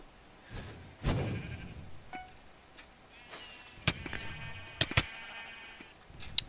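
Mineplex video game sheep bleating, a couple of brief bleats among small game clicks and ticks, fairly faint and without talk.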